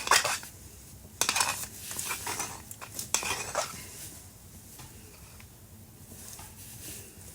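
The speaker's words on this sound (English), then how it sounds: "I'm going to take this putty, mix it up just a little bit in the container here" Wood putty stirred in its container during a makeover of a 1940 vintage bedroom set, close clinks and scrapes of a tool against the tub in irregular bursts, then quieter handling.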